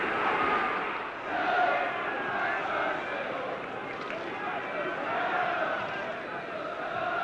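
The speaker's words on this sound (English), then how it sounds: "The chairman there answering the catcalls of the Derby crowd as the players prepare to kick off." Derby County football crowd at a match shouting and catcalling before kick-off, a broad continuous roar of many voices with swelling peaks, a commentator talking over it.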